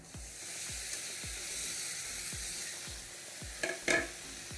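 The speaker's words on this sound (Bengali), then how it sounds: "কষানো হয়ে গেছে, এই পর্যায়ে দিয়ে দেবো মাছ" Small molonti fish go into a pan of spice masala for a Bengali fish curry, over a steady close sizzle with a regular rhythm of spoon scrapes, then a brief louder crackling burst near the end.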